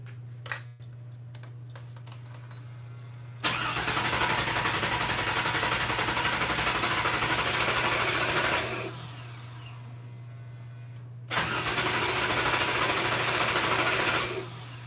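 A Toyota FJ40 engine being started for the first time cranks over fast in two long bursts of steady, rapid mechanical churning, separated by a short pause and preceded by a low constant hum and a few clicks.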